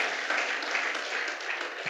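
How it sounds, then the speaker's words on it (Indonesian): A church congregation at a joint service applauds with an even wash of clapping, moderately loud and fairly close, holding steady without voices on top. "Berikan tepuk tangan, saudara."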